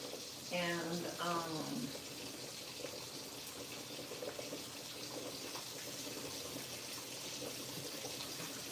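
Water running steadily from a kitchen faucet while bell peppers are prepared, a constant close rushing hiss that continues throughout, with someone speaking briefly near the start.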